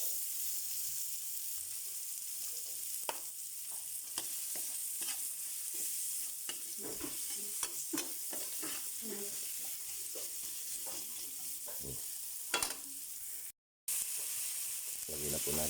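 Garlic and onion frying in a pan while pork caldereta is being cooked, a continuous close sizzle broken by repeated scraping stirs and clicks of a utensil, with a short silent gap near the end.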